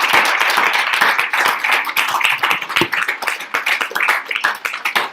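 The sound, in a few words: audience applause after a class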